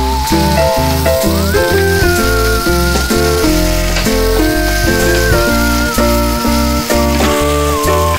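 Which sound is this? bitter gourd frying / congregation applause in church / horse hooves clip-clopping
bitter gourd frying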